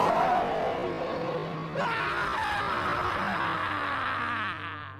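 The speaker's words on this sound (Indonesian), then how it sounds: "Makhluk tersebut pun membalasnya dengan auman singa." A creature in the 2017 horror film The Ritual answers with a deep lion-like roar that swells and rumbles, layered with a screaming, howling texture, loud and sustained for several seconds without speech.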